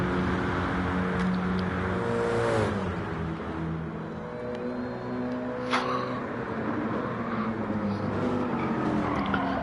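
Racing car in a video game driving through the final corner at Monza, loud close engine revving with shifting pitch, gear changes and brief tire squeal, continuous throughout.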